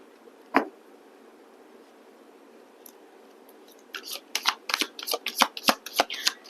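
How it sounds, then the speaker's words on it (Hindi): Tarot cards being shuffled with a single sharp slap near the start, then a busy run of crisp riffling flicks and card taps through the second half, close and moderately loud with no talking. "बार बार वही कार्ड्स गिर रहे हैं."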